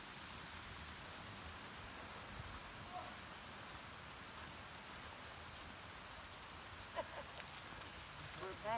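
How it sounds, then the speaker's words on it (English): Soft, steady patter of light rain on a shelter along the Long Trail in October, faint and even, with a couple of small knocks and rustles toward the end. "It's raining out a little."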